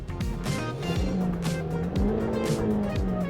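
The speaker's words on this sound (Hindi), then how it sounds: "एक मीटी रोर मिल जाता है आपको इंजन में, जो आपको एक you have this exhaust note" Honda Amaze compact sedan with an i-VTEC four-cylinder engine, its loud roar and exhaust note climbing and dropping through repeated revs, with short tire squeals mixed in, close and continuous.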